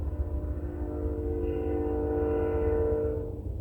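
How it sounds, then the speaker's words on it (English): A train rumbles by at a distance with a steady low drone and sustained tonal hum, holding for several seconds at moderate level before fading toward the end. "Also, I'm really sorry if you can hear the train."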